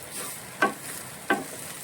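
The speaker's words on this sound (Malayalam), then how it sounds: "ഇത് ഇനി നമുക്കിത് നന്നായിട്ട് ഇളക്കി യോജിപ്പിക്കാം" A spoon stirs a prawn and drumstick thoran in a pan, two distinct scraping strokes about half a second apart over a faint sizzle, close and fairly loud with no talk.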